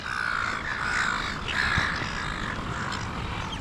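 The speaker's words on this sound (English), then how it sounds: "There's like hundreds of seagulls here." A large flock of seagulls calls on the Oodnadatta Track in the Australian outback, a continuous chorus of overlapping squawks and cries at middle distance over steady wind-like noise.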